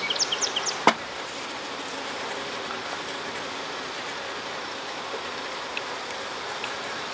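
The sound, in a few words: honey bees buzzing on a hive frame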